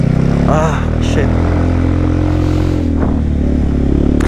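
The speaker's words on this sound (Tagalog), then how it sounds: "Kaya naman, malakas yung motor." A motorcycle engine drones steadily while riding on a cold, wet mountain road, a close low hum under heavy wind buffeting with a few brief shifts in pitch.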